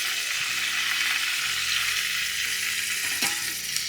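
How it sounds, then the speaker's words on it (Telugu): Onions, tomatoes and garlic fry in oil left over from frying paneer, giving a continuous, dense, close sizzle with one brief utensil tap near the end and no voices. "ఉల్లిపాయలు టమాటాలు వెల్లుల్లి వేగుతూ ఉంటాయి"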